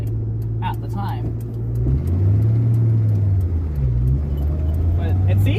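A carbureted Ford Mustang with a freshly cleaned carburetor drives along, its engine droning loud and close, rising and briefly stumbling in a bog as it pulls.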